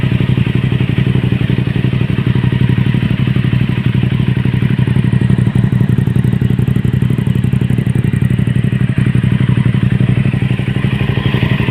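An Aprilia RS 660 sport bike engine idles steadily just after an oil change, a loud, close, continuous deep bassy thrum with a fine mechanical clatter running through it and no talking.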